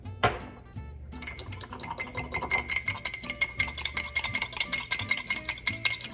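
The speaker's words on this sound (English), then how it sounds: "Mix it all together" A spoon clinks and scrapes steadily against a bowl while quinoa salad ingredients are mixed together, a rapid rhythmic rattle close up with no talking.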